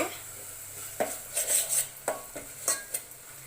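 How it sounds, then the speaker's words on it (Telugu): Ginger garlic paste goes into a pan with oil for fish curry: a low sizzle under repeated metallic scrapes and clinks of a spoon against the pan, irregular and close. "తర్వాత అల్లం వెల్లుల్లి పేస్ట్ వేయబోతున్నారు"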